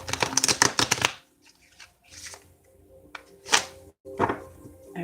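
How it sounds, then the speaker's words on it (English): Tarot cards are shuffled up close, with a dense flurry of riffling slaps at first, then softer scattered card slides and taps in a quiet room. "All right, one more shuffle."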